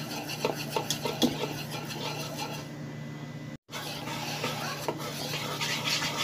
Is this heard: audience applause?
no